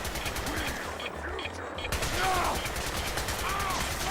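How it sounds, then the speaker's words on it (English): Rapid gunfire in Fallout 4, a dense stream of automatic shots at moderate distance, continuous over a few seconds alongside game ambience. "Who's shooting at me?"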